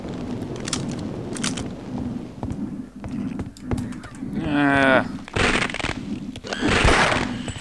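Gunfire from Half-Life: Opposing Force, a few sharp bursts and shots standing out among game noise, with a mechanical rattling burst in the middle and a loud crackling blast near the end, all fairly close and loud.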